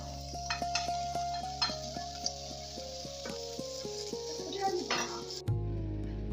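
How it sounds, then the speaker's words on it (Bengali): Vegetables hit hot oil in a wok already holding panch phoron, dried red chillies and ginger, and start frying and being stirred, with clinks and scrapes over a steady sizzle. A steady hum runs beneath, then the sound changes near the end. "এবার দিয়ে দেবো সবজিগুলো।"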